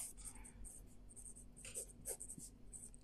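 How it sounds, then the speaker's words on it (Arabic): Pen or marker writing out an example, with faint scratchy strokes in short bursts close by and soft background noise, quiet overall. "مثلا أكتب مثال عليها"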